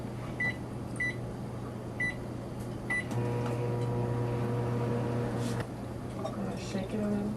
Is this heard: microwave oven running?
yes